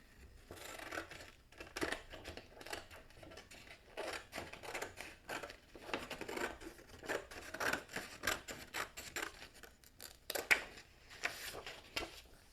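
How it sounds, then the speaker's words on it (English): Scissors snipping through a folded sheet of orange craft paper to cut it in half, a close, quiet run of rapid crisp snips and paper rustles repeating steadily without talk. "And I'm going to cut it in half."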